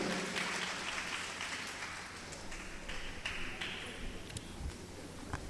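A church congregation at a healing service claps loudly together, a dense steady patter of hands with a few sharper individual claps standing out.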